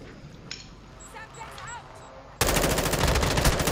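Bursts of rapid gunfire in an online shooter game: the opening seconds are quieter, with faint game sounds under talk, then a loud sustained volley of automatic fire takes over to the end.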